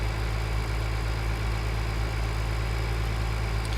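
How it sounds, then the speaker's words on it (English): A tractor engine in the Farming Simulator 2013 game runs at a steady idle. It makes a continuous low, even drone with a constant hum and no speech. "See the tractor working over there."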